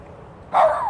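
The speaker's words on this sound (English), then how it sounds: "You want to see the doggy?" A dog gives a single loud close bark or yelp that trails into a short whine, following a moment of quiet room tone.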